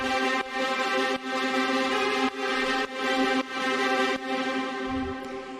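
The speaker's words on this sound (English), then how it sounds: "We have the strings playing their dramatic high notes" Dramatic high string notes in a heavy melodic dubstep arrangement, sustained bright chords pumping rhythmically with sidechain ducking, loud and alone without voices.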